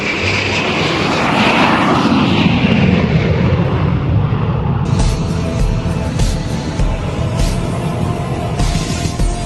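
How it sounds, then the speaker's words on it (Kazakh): Steady, loud roar of an airplane engine in flight on a passenger flight, a continuous broad drone with a slight shift in tone partway through and no voices. "Міне, ұшаққа отырып, Дубайға да ұшып келдіңіз."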